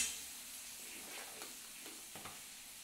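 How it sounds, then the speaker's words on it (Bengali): Paneer fries in oil in a home kitchen, a faint, soft continuous sizzle with a couple of small pops. "পনিরটাও ভাজা হচ্ছে"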